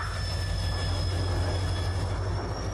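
Train rumble and steady rolling hum of a departing train in Halo 3 ODST, continuous and close with thin high whines over it, no talk.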